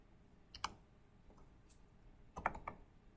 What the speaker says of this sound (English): My keyboard is having issues again.